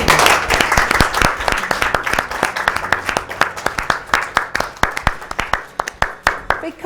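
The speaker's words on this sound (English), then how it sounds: "Can you just give yourselves a round of applause?" A small group applauding together, loud close clapping that starts dense and thins toward the end into scattered individual claps.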